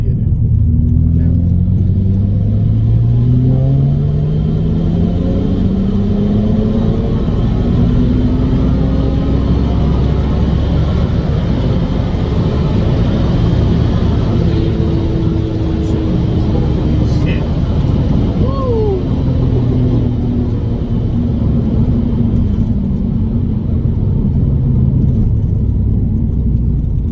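A car accelerating hard in 4th gear, its engine droning steadily and climbing in pitch over a long continuous pull, loud and close, with a few faint rattles and some brief talk underneath.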